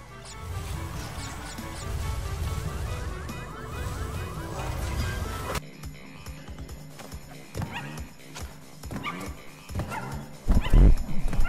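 A puppy in a Crash Bandicoot video game barks in short yips, with horse-like neighs and hoof clip-clops mixed in. It is game audio with background music that drops out partway through, followed by scattered louder hits near the end.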